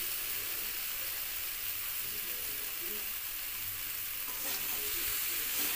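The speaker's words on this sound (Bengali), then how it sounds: "পুরো মশলাটাকে সবজির সাথে কষিয়ে নিতে হবে।" A spice paste with vegetables and tomato is stirred and sautéed in a pan for a khoira fish curry, giving a steady, close sizzle with soft scraping of the spoon throughout, no voices.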